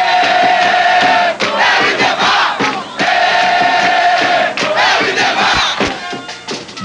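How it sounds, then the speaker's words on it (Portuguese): Flamengo organized supporters at a match in Gávea chanting and roaring together, a loud, dense crowd with rhythmic claps and shouts surging and dipping across the stadium, no clear single voice. "um simples jogo na Gávea vira uma festa para a torcida"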